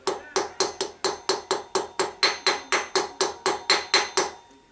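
Hammer blows on a wheel bearing sleeve, about eighteen sharp metallic strikes in a steady even rhythm, loud and close, each ringing briefly before the next.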